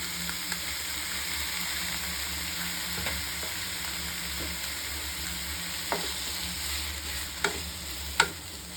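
Onions and tomatoes fry in a pan with a soft continuous sizzle, punctuated by occasional sharp clicks of stirring against the pan.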